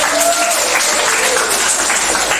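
A classroom of students applauds together, dense and loud close-up clapping that stays steady for the whole short stretch.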